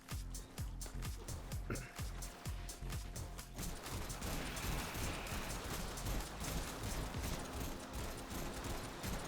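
Dense, continuous barrage of loud video-game explosions from Staticor bombard rockets exploding on impact, rapid and overlapping at first, then a sustained rumbling roar of detonations and debris.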